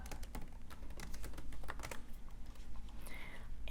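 Computer keyboard typing a search, a steady flurry of light key clicks over nearly four seconds, close up and quiet with no speech.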